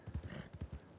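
Horse hooves in Red Dead Redemption 2 clopping in quick uneven beats, close and fairly loud, with a faint whinny mixed in and no speech over it.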